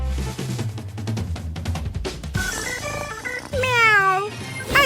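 An animated cat meows in a cartoon cooking-challenge scene, with rising and falling drawn-out cries over steady background music. The cries grow clearer and stronger toward the end.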